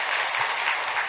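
Brief burst of audience applause at a Buddhist dharma talk for the Baekjung memorial ceremony, a dense, even wash of many hands clapping close by, with no voices over it.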